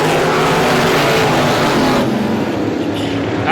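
Race cars at a speedway roar down the front straightaway in a loud, close pack, engines blaring continuously before the noise eases slightly as they pass.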